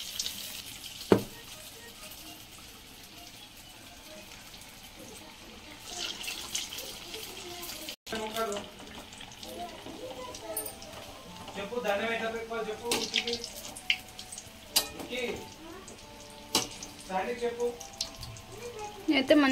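Soaked urad dal and rice batter is dropped into hot oil and fries with a steady crackling sizzle, bubbling bursts building in the second half, while a voice talks faintly underneath.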